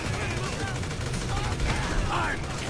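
Gunfire in Grand Theft Auto V, a dense continuous barrage of shots blending into a loud wash of noise, with rapid bursts layered over one another.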